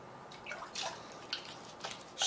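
Water drips and splashes softly while something is scrubbed and rinsed with Dawn dish soap, a few quiet intermittent splashes ending in a brief louder gush.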